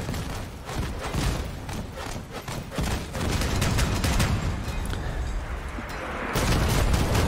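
Mandrake launcher fire in the vehicle combat video game Crossout sends a rolling barrage of booming explosions, dense and loud, building into a heavier sustained rumble toward the end.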